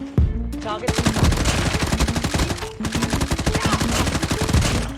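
AMAX assault rifle firing in COD Mobile: two long bursts of rapid automatic gunfire, close and loud, separated by a brief pause.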